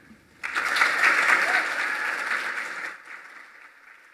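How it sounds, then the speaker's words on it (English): An audience at a museum lecture on 19th-century color impressions bursts into warm applause to welcome a speaker to the podium, with steady clapping that swells and holds for a few seconds before tapering off. "Please join me in welcoming her to the podium."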